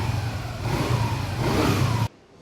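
TVS Jupiter ZX scooter engine revving up close, rising in two surges of loud mid-pitched whine before cutting off sharply to near silence.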